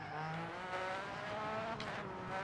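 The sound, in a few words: rally car engine with throttle feathering, video game Dirt Rally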